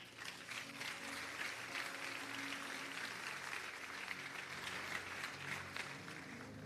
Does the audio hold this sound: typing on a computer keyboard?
no